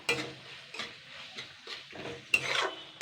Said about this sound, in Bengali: এটা দিয়ে জাস্ট আমি আবারও দুই মিনিট মতন নাড়াচাড়া করে নেবো